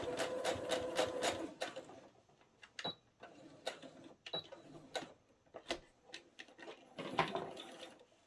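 A sewing machine stitches a mitered corner, short bursts of rapid mechanical whirring broken by pauses and small clicks, close and fairly quiet.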